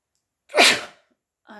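A single loud, close sneeze bursts out, then quiet, followed by a brief soft sound at the very end.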